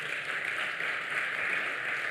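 An audience at a university research and innovation week event claps continuously, a dense, even patter of many hands sustained throughout with no voices.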